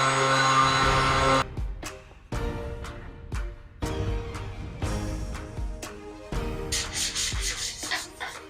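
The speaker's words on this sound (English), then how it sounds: "So now we're going to sand over it, get this smoothed down and back to the original shaping" Hardened epoxy is sanded on a fiberglass rear wing from a Honda CR-Z, steady close abrasive rasping in long strokes broken by brief pauses, with the grinding texture changing from one pass to the next.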